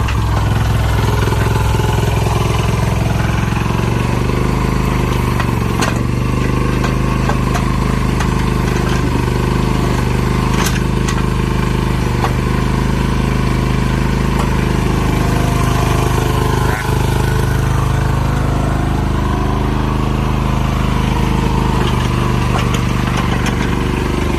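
The single-cylinder diesel engine of an old Japanese HANIX H05 mini excavator runs steadily and loudly up close, with a constant low throbbing chug and occasional clatter throughout.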